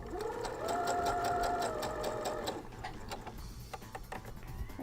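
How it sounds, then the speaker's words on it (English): Sewing machine straight stitching, a fast steady mechanical clatter with rhythmic ticking for a few seconds before slowing into looser clicks and handling noise. "And here we go, let's just start sewing."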